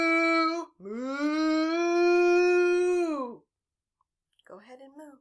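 Children's voices imitate a cow's moo in long, sustained, sung tones, first a short one and then a drawn-out one, followed by a brief softer vocal sound.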